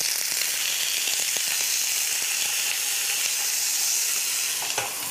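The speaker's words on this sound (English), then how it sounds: "As soon as the oil is quite hot, add the cheese." Cheese fries in hot oil in a pan with loud, continuous close sizzling and a few soft stirring clicks, with no voices.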